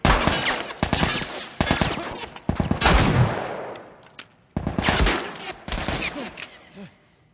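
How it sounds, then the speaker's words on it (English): Pistol gunshots in The Last of Us: a string of sharp, loud single shots fired at uneven intervals, several close together, each leaving a short echoing tail, with quieter gaps between volleys. "why is this pistol single shot?"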